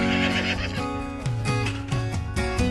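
A wild horse neighs loudly and close at a desert trap site, with repeated whinnying calls rising and falling over a few seconds.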